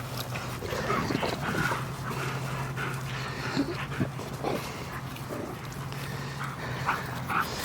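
Several dogs playing together, with panting, short yips, whimpers and scuffling bursts, close and moderately loud over a low steady hum, no talking.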